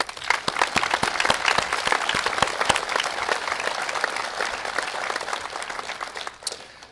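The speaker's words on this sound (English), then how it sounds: "We welcome a round of applause to our graduates." Audience applauding the Class of 2021 graduates at a commencement ceremony: sustained, dense clapping from a large crowd with sharp individual claps standing out, fading near the end.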